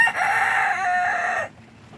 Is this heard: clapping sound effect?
no